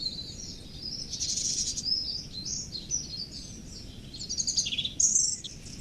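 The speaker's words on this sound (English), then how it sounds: "There's a song thrush." A song thrush sings a run of bright, varied phrases, moderately faint and somewhat distant, over a low rumbling background with no voices.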